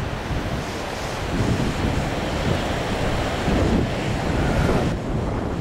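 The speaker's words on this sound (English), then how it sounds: "A little bit of surf today, nothing special." Ocean surf rolls in steadily along a rocky coastline with green slopes, a continuous wash of breaking waves mixed with wind buffeting the microphone, with no voices.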